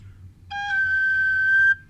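An Irish whistle plays one clear, sustained note for just over a second, bright and steady with a soft onset, heard alone over a faint low hum.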